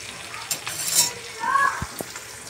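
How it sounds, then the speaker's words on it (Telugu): Vegetable kurma being stirred in a pan, soft scraping and a few light metallic clinks of a spoon over a quiet sizzle. "బాగా కలుపుకోవాలి."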